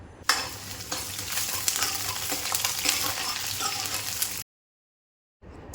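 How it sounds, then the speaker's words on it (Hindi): Kadhi being tempered in hot mustard oil with hing, fenugreek seeds, garlic and onion gives a loud, dense sizzle with stirring scrapes, then cuts to silence before faint sizzling returns. "तो बस अभी मैंने कड़ी छोंकना शुरू कर दिया है, जिसके लिए सरसों का तेल लिया, फिर उसमें हींग, मेथी दाना, लहसुन, प्याज, सारी चीज़ें डाल के"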